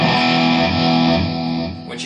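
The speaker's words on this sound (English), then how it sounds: "I'm using a fairly basic heavy metal distortion on here. I've got reverb on it. I'm going to add a touch of delay as well for the solos" Heavily distorted electric guitar lead through a Digitech RP500 multi-effects pedal with heavy metal distortion, reverb and delay, playing a guitar solo; a loud, sustained, harmonically dense tone throughout.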